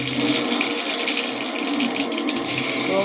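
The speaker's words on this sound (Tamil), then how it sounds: "கடுகு போட்டு பொரிஞ்சு வரட்டும்." Mustard seeds spluttering and popping in hot oil in a kadai, a steady dense crackle that holds at an even level throughout, with no voices over it.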